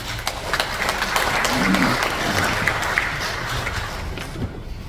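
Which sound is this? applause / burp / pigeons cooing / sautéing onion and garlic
applause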